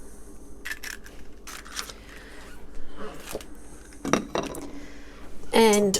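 Eggs being whisked in a bowl, scattered clinks and scrapes of a whisk against the bowl, close and fairly quiet, ending in a brief rapid flurry of ringing taps.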